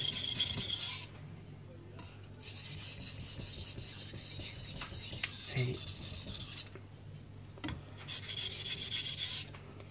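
A knife is sharpened on an 800 grit Chosera whetstone, with repeated close scraping strokes in bursts separated by short pauses, steady and fairly quiet, with no talking.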